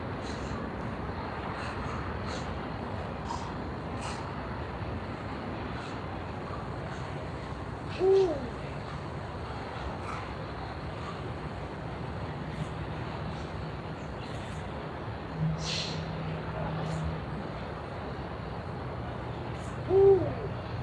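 A wild owl in an urban park gives two brief, faint hoots several seconds apart, over a steady outdoor background of noise, with some chirping higher up.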